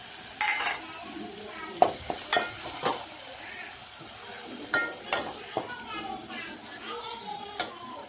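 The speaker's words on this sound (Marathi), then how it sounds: "आपण हा मसाला टाकूया तेलामध्ये परतून घेऊया" Masala spices sautéing in hot oil with curry leaves, stirred in a pan: a soft steady sizzle broken by scattered scraping and tapping strokes of the spoon, close and moderately quiet.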